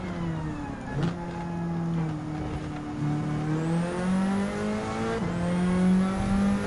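A race car accelerates hard in the Gran Turismo 7 video game, its engine note climbing steadily through the gears with brief dips at each shift, loud and close, with a faint tire squeal.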